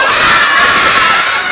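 A group of children shout together in unison, loud and sustained, calling out to wake a puppet during a storytelling session.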